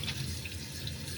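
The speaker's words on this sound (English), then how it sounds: "just give that a good rinsing" Tap water runs steadily and splashes over raw duck meat in a sink, a continuous close hiss with small drips and gurgles, no voices.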